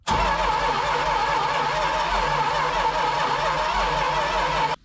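A Dodge Dart engine, abandoned and sitting for years, cranks steadily on the starter without catching, a continuous uneven galloping churn throughout, close and loud.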